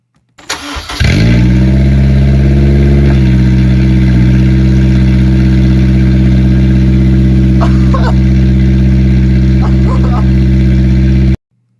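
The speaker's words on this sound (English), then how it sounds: "we had to start the car with no exhaust just to see what it sounded like" A Honda S2000 engine starts and runs with no exhaust fitted, a loud, steady, tractor-like drone that holds constant after the start, with brief faint voices over it.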